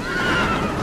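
A horse neighs loudly in The Witcher, a single close, sustained whinny of under a second, heard on its own.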